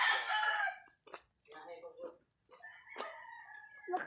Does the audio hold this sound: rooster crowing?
yes